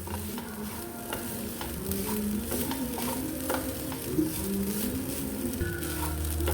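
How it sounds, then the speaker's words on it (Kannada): Grated coconut fries in a pan, giving a steady sizzle with intermittent spatula scrapes and stirring clatter. The sound is fairly faint and continuous, and no one speaks. "ನೋಡಿ, ಇದು ಫ್ರೈ ಆಗ್ತಾ ಬಂದಿದೆ ಈಗ."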